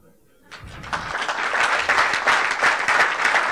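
An audience claps at a Founder2be entrepreneurship talk in Lagos, scattered claps swelling into steady, moderately loud applause from a crowd in a hall.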